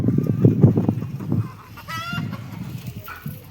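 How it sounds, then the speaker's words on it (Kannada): Native Jawari chickens clucking and calling close by in a farmyard, a burst of loud low clucks followed by a higher squawk and scattered fainter calls. "ಎಲ್ಲ ಜವಾರಿ ಕೋಳಿ ಅದಾವು"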